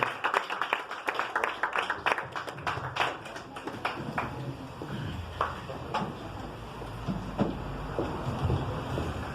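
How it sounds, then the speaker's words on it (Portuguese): Scattered, uneven claps from a church congregation ring out close by, sharp and separate at first, then thin out into softer, sparser clapping. "Pode aplaudir nós bem forte."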